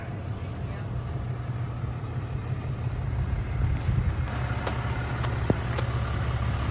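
A hotshot truck rolls out, its engine giving a steady, low rumble that is fairly close and continuous, with some speech mixed in.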